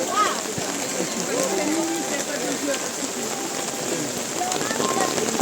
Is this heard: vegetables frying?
no